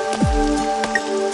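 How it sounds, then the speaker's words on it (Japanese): Steady rain patters continuously beneath a sustained musical backdrop, with a few soft swooping tones over the even wash of falling drops. "雨のせいかな。"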